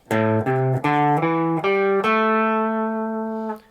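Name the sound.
A minor pentatonic scale played on guitar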